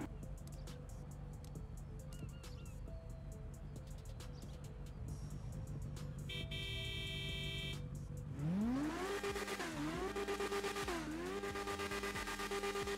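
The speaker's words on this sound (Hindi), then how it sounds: "मैं आपको इस बाइक का साउंड फिर से सुना देता हूँ।" A Yamaha YZF R6 motorcycle engine in GTA 5 idles, then revs up sharply with rising and falling pitch, loud and close, with no talking.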